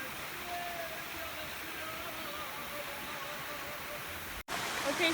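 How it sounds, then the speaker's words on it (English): A waterfall at San Antonio pours in a constant broadband rush, close and loud, with flowing water churning beneath; the roar holds steady, cuts out for an instant near the end, then resumes. "I don't know if you can hear me because of the water"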